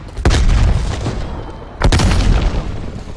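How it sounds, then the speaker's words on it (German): Two grenades explode in the shooter video game Call of Duty Black Ops Cold War, about a second and a half apart. Each is a loud, close, heavy boom with a rumbling tail. "Werfe Granate!"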